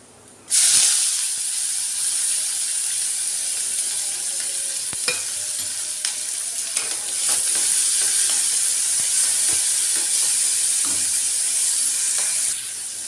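Chopped onion hits hot oil and sizzles loudly, settling into a steady, crackling hiss with occasional pops that continues throughout without any talking.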